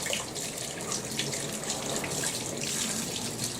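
Tap water runs steadily into a kitchen sink as a spatula is rinsed clean, a close, continuous splashing rush with no one speaking.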